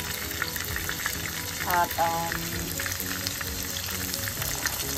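Pork for lechon kawali fries in hot oil in a pan, a steady close sizzle with brief bubbling surges and a faint voice in the background.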